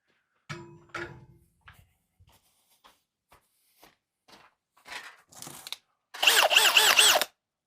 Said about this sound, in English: I need more Milwaukee drills like this.